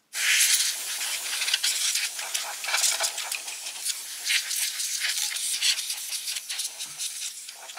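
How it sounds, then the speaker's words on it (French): A can of compressed air blasts dust off a Sony MHC EC79 hi-fi unit, a close, loud hissing spray in sputtering bursts that runs almost continuously for several seconds. "j'ai utilisé de la bombe à air sec"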